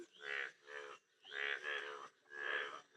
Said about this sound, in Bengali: সেই পানির ভিতরে ব্যাঙগুলো ডাকতেছে।